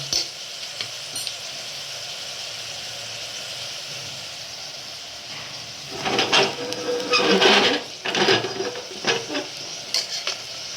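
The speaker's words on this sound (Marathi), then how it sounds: "आणि आता आपण त्याला व्यवस्थित त्याला भाजून घेऊया" Whole masoor lentils with a spoonful of Bhosale masoor masala roast in a pan with little oil, a soft steady sizzle that gives way to louder bursts of spoon scraping and stirring in the second half.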